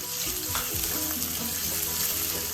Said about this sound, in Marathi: मी इथे पातीचा कांदा घेतला आहे उभा चिरून त्यालाही व्यवस्थित परतून घेऊया